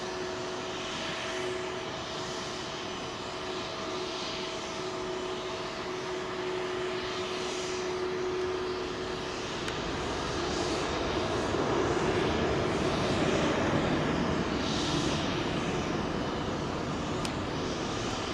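Aircraft engine roar at London Heathrow runway 27L, a steady broadband rumble that swells louder midway as a plane passes, heard from a distance with no talk.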